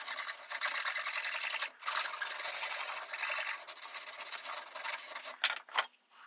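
Steady rasping strokes of a file on the edge of a Veritas scraper plane blade, close and continuous with brief pauses between passes.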